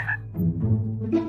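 A frog croaks in a Minecraft animation, a single low, throaty croak with a rasping, bubbling texture, loud and close, with no talk over it.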